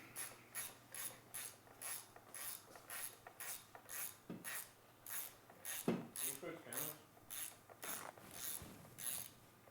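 A ratchet works a bolt loose on a bike, giving a steady run of rapid clicking strokes, close and evenly repeated, with no talk.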